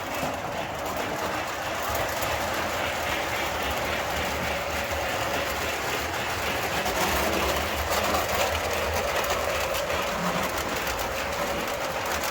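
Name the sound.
model train running on layout track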